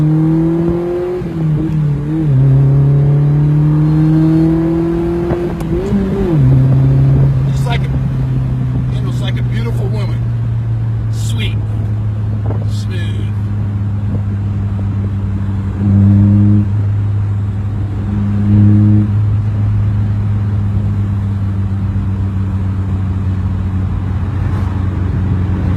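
A 1979 Ferrari 308 engine, recently revived after years unused, idles and revs on a road test, pitch rising and falling before settling into a steady low drone, with a few brief rev blips and clicks nearby.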